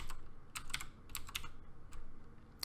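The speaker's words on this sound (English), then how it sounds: "we're going to type comma HTML." Keystrokes on a computer keyboard while entering a Vim command, a quiet series of separate clicks in uneven bursts with gaps between them, heard alone with no talking.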